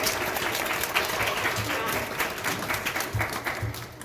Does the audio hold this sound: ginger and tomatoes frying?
no